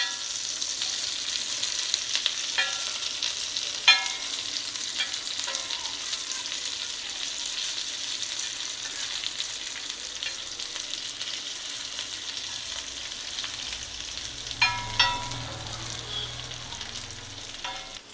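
Pressure-cooked chicken fries in a pan over a low flame with a continuous soft sizzle. A few sharp clinks and scrapes of a spatula stand out, including a cluster near the end, and no one talks.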